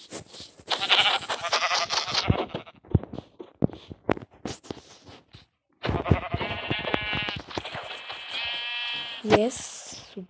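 Sheep in the video game Minecraft Education bleat in short wavering calls, with a voice speaking in between and over them.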